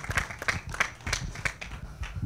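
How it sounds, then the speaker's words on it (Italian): Sparse, evenly spaced handclaps from a small audience welcoming a speaker at an industrial IoT conference, moderately quiet with a few distinct claps per second and no talking. "facciamo un applauso a Emanuele"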